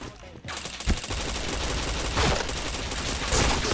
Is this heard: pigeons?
no